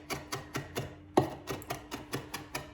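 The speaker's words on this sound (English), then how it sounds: "chopping the parsley and oregano" A knife chops parsley and oregano on a cutting board in a quick, steady run of crisp taps, about three or four per second, close and fairly clear with no voice over it.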